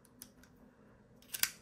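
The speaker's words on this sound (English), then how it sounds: "these are foldable scissors. So it's like a pen style scissor thing" Foldable pen-style scissors are handled, giving a few faint clicks followed by a sharper, brighter snip or snap near the end, heard alone.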